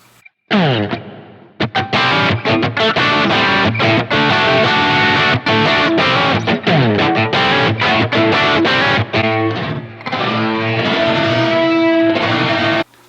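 Electric guitar, a roasted ash Stratocaster played through a Yamaha THR10X amp on the Brown 1 setting, loud and continuous, with strummed chords and single notes ringing out under a touch of reverb.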